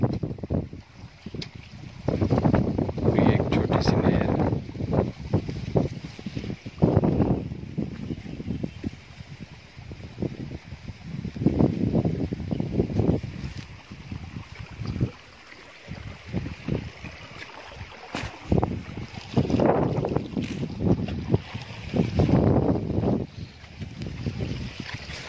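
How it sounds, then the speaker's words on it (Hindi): Strong wind buffets the microphone at a banana farm in Sindh, Pakistan, where water runs through the field, giving loud, gusty rumbling bursts that rise and fall across the whole stretch with no talk. "हवा बहुत तेज़ चल रही है, आवाज़ में थोड़ी दिक्कत होगी।"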